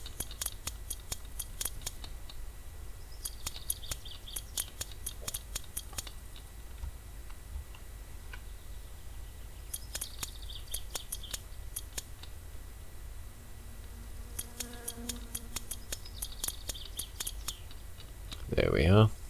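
Rapid ratcheting clicks come in repeated bursts from a 7mm spanner tightening bolts in My Summer Car. The bursts are separated by quiet pauses, with a brief low hum near the end.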